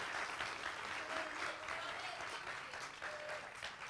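An audience claps in sustained applause to welcome a speaker onto the stage at a Black in Gaming event, a dense, even roar of many hands throughout.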